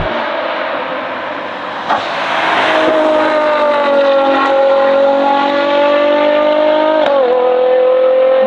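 Ferrari Purosangue with a NOVITEC exhaust system revving hard, a loud, close engine howl that climbs at about two seconds and then holds high, sustained and rising, with a short blip near the end.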